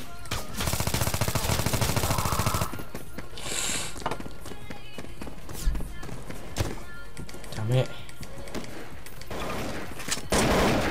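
Rapid automatic gunfire rattles from a Gmod NPC team deathmatch in the video game, dense bursts of shooting heard up close amid game noise and a player talking over the action.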